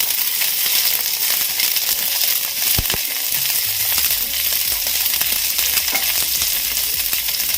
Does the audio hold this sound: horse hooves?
no